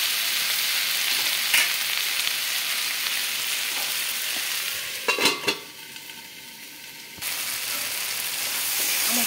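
Vegetables with fried eggplant cooking in a pan, a steady close sizzle broken midway by a few clattering knocks of a utensil or lid before the frying hiss resumes, no speech.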